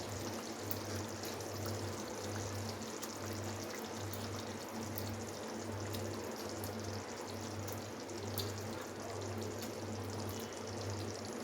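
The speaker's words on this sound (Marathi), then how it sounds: "त्याच्यामध्ये आता आपण हे मके टाकूया" Maize kernels tumble into a pot of boiling water for shevla bhaji, a steady rushing pour and bubbling that holds even for about eleven seconds over a low, pulsing hum, with no talking.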